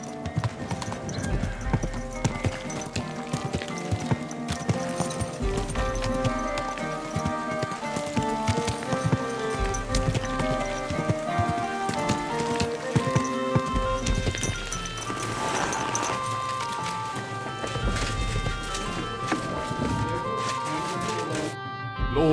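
Horse hooves clip-clopping in the video game Kingdom Come Deliverance II, a steady rhythmic gait heard continuously under a musical score, with a brief whinny.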